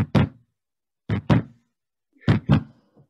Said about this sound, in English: Peculiar thumping is heard at the street door.